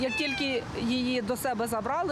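A domestic cat meows amid the crowd of cats and dogs gathered on a city street in Rivne, Ukraine, for a free rabies vaccination event; the meowing blends with someone talking close by.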